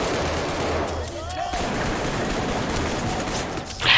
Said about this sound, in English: He's trying to shoot me with his sniper.